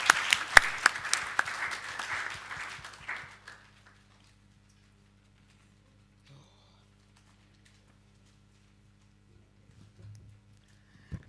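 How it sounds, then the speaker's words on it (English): A small audience at a government campaign launch gives a brief, scattered round of clapping that fades out within about three seconds, leaving near silence with faint background hum. "Please give yourselves a round of applause"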